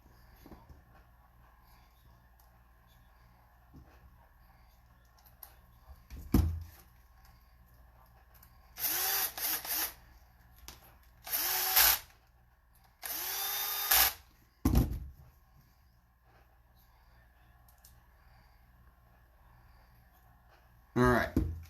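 Power drill driving screws into a Holmes Hobbies RC transfer case, three separate short whirring bursts with pauses between them, plus a few sharp clicks and handling knocks, fairly close.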